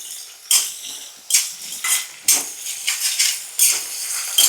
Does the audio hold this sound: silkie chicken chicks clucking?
no